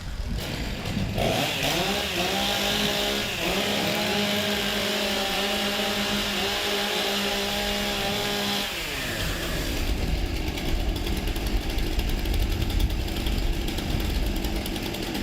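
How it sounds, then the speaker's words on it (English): Several chainsaws revving and idling together at a STIHL Timbersports competition, rising and falling engine whine in layered pitches for several seconds, then a rougher, broader roar of saws at full throttle in an outdoor arena. "Warm up your saws."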